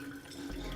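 Water runs steadily into a big container, a soft continuous pouring hiss heard briefly and at low volume.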